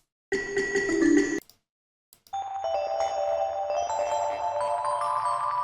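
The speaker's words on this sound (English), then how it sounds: "I'm going to go ahead and add like a bell sound" Bright synthesized bell tones from an Omnisphere preset ring out alone, a short chiming phrase, a brief pause, then a sustained shimmering bell pad that holds steady.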